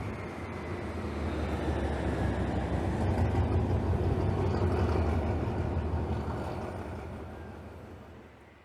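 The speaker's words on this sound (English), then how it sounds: "as yet another passing train comes underneath this bridge" A diesel train rumbles past close by, passing under a bridge in Bangkok, a deep, steady roar that swells to a peak and slowly fades as it moves away.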